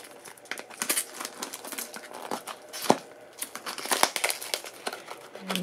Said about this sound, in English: I wish all blind bags were like this, had this beautiful crinkle feel to it